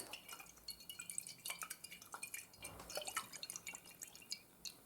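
Liquid sloshes and drips inside a glass container, with small clinks and splashes as it is shaken, close and fairly quiet.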